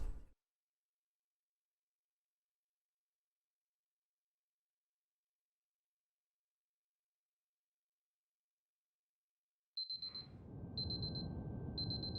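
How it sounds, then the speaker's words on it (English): Alarm clock ringing in the puzzle game Superliminal, its beeps starting sharp after long silence, repeating in short bursts over a rising background hum. "We wanted to do a unique alarm clock for each level"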